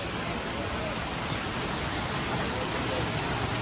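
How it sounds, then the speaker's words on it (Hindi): Heavy rain pours down in a steady, dense broadband hiss, with no pauses across the stretch and no voices heard. "बारिश बड़ी तेज़ हो गई है"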